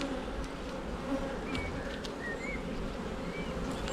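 Dense, steady buzzing of many honey bees close by in an open hive during an inspection, a continuous hum with occasional individual bees droning past.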